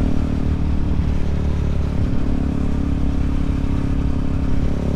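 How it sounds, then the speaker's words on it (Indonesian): A motorcycle exhaust roars with a continuous deep, bassy rumble, loud and close, holding a steady drone throughout with no talking. "Jadi gitu suaranya, suara knalpotnya. Sangar kan? Ngebas, suaranya ngebas terus bulat."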